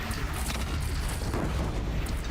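A cannon fires during a bandit fight in Horizon Zero Dawn, a dense rumbling boom that fills the whole stretch, loud and continuous, with no clear separate blasts and no voices.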